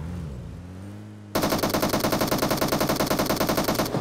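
Automatic gunfire in a shooter video game erupts after a quieter moment, a loud, rapid, unbroken stream of shots lasting several seconds.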